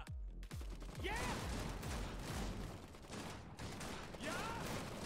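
Gunfire in the real-time strategy game Iron Harvest: repeated bursts of shots and rattling fire across a battle, fairly faint, with in-game voice lines heard over it.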